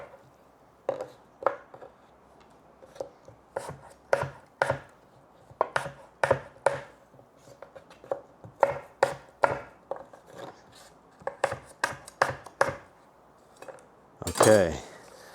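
Knife chopping apple slices on a homemade one-piece wooden cutting board, a series of sharp, hard knocks in uneven bursts, close and loud against near silence, with a final brief rustle.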